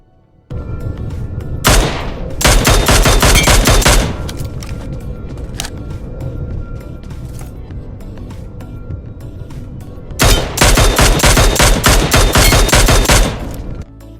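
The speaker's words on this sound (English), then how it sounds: "You will hear a specific sound when you hit a headshot." Loud, rapid bursts of automatic gunfire in PUBG/BGMI sound out in two long volleys, each landing hit carrying a distinct headshot effect, with a steady rumbling game background in between.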